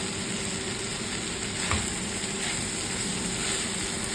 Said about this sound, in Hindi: थोड़ा सा ये भून भी गया